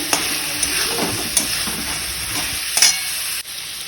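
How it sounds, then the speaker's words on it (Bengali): Pointed gourd and taro pieces frying in a cooked-down masala, a continuous close sizzle broken by several sharp spatula knocks and scrapes as the pan is stirred. "এবারে যে পটল আর কচুটা দিয়ে দিলাম, একটু নেড়ে চেড়ে"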